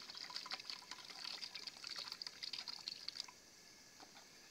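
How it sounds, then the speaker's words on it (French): Excess water poured off soaked watermelon and maize seeds in a germination test: a quiet, close trickle and splash of water lasting a few seconds before it fades. "il faut enlever l'excès d'eau"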